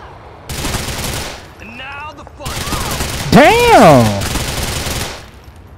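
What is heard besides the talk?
gunfire in video game GTA 4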